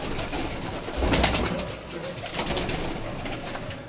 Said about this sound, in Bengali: এই যে এক পেয়ার পায়রা দেখে নিন, লাল ফুল পায়রা।